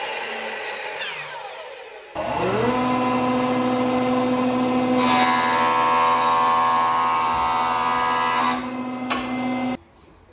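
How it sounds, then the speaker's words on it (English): Jointer spinning up and running as wooden board edges are jointed, a rising tonal motor whine settling into a steady loud hum with a brief cutting change midway, then stopping abruptly. "Just jointed two edges."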